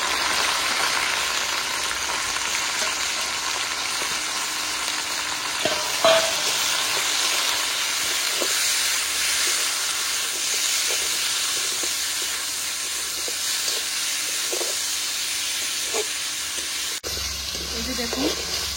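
Marinated chicken sizzles and fries in a pan with browned onions, a loud, continuous hiss with occasional stirring clinks, close by and steady throughout.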